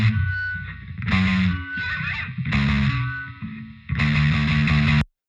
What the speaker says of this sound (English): So that feedback doesn't even really sound intentional.